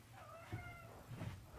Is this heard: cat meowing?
yes